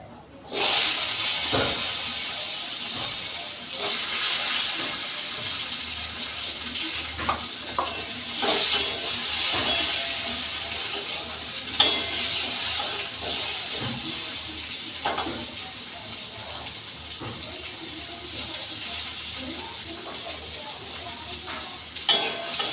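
A sour potato and eggplant dish cooks in a pan, with a continuous hissing sizzle throughout, punctuated by occasional stirring clatter, fairly loud and close.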